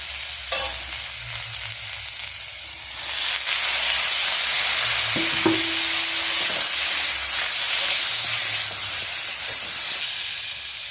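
Chopped tomatoes hitting hot oil with frying eggplant, a loud steady sizzle and hiss rising as they land, with occasional stirring scrapes and taps of a utensil.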